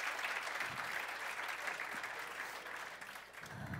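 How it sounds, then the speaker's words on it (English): A school audience applauds students at a data-and-education event, steady dense clapping that holds level throughout without a break, with no voices standing out above it. "Can we get a warm round of applause for our students?"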